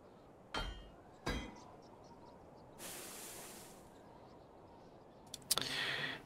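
In the medieval survival game Medieval Dynasty, iron bars are crafted into hammers, with two sharp metallic clanks, a burst of hissing like quenching steam, then a clatter of clinks, all against quiet ambience.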